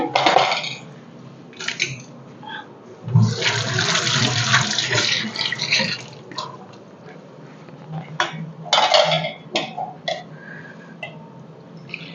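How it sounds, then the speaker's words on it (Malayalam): Tamarind water for pani puri is poured and sloshed in a kitchen, several close splashing and gurgling bursts mixed with light clinks of dishes. "പുളിവെള്ളം ഒഴിച്ചു കൊടുക്കാമേ"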